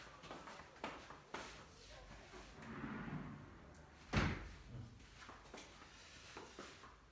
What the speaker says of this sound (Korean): 창문 좀 닫고 올게요.